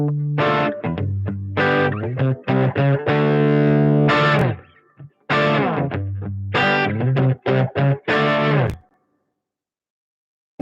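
Electric guitar phrases through a VOX UL730 amplifier ring out drenched in heavy, cavernous reverb, each note trailing a long echoing wash before a final silence.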